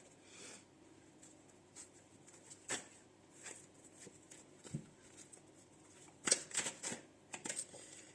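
Playing or tarot-style cards being shuffled by hand, a series of soft, irregular riffling and flicking bursts, close and fairly quiet, with the busiest shuffling near the end.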